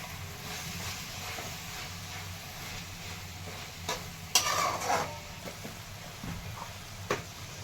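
A spoon stirs a spring onion greens stir-fry with chutney in a pan, giving faint, soft scraping and quiet sizzling, with a short burst of louder scrapes midway.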